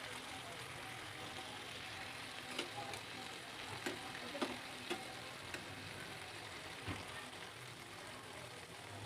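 Chicken pieces frying in a pan for a paratha roll give a steady, quiet sizzle throughout, with a few soft taps and clicks scattered over the hiss, no voices.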